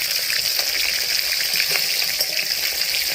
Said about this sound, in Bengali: মাছের মাথাটা একটু ভাজা হোক